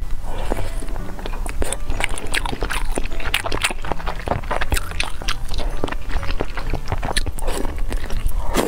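Close, loud chewing and biting on a grilled sausage, with a dense run of moist, crunchy mouth sounds recorded right at the microphone.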